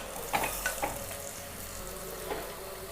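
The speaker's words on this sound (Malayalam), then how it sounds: "ഇനി ഒന്ന് വഴറ്റി കൊടുക്കാം. നല്ല കുറച്ചുകൂടി വഴന്ന് വരട്ടെ." Curry being sautéed and stirred in a frying pan, a soft steady sizzle with a few brief scraping stir strokes near the start and another later, quiet and close with no talking.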